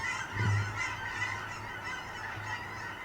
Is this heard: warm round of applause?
no